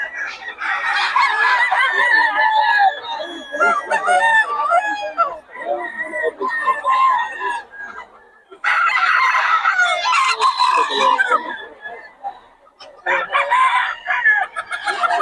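Chickens cluck loudly and roosters crow repeatedly nearby at a market in Bocaue, a busy, continuous barnyard chorus with short pauses between bursts.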